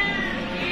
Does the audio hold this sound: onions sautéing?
no